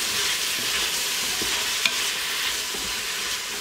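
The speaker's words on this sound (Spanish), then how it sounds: "Le damos vueltas a las verduras para que se vayan sofriendo un poquito" Vegetables sautéing in a pot while being stirred for a pasta dish make a continuous close frying hiss, broken by a few soft scrapes and one small clink.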